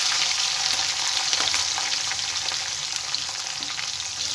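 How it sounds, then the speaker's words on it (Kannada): Capsicum frying in oil in a pan, with cumin seeds added just before, gives a steady, dense sizzle with occasional crackles and spatters, close and continuous throughout. "ಕ್ಯಾಪ್ಸಿಕಮ್ನ ಹಾಕೊಂಡು ಎಣ್ಣೆ ಒಂದು ಸ್ವಲ್ಪ ಫ್ರೈ ಮಾಡ್ಕೋಬೇಕು"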